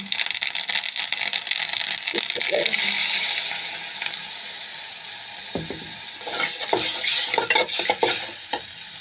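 Spices go into browned onions frying in a pan, giving a steady sizzle with scraping and stirring strokes that grow busier toward the end, close and moderately loud.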